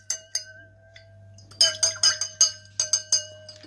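A spoon stirs a tablespoon of sugar into a drink in a glass, giving a quick series of bright, close metallic clinks against the glass over a soft, steady background hum.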